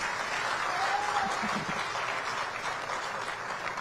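Audience applause at a Yanga and GSM Group announcement event about stadium investment, steady sustained clapping from a crowd filling the whole stretch at even loudness, with no clear talking on top.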